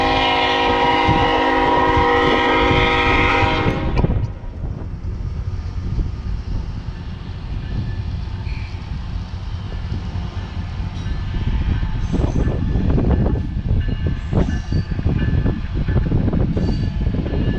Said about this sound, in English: we saw a train go over a bridge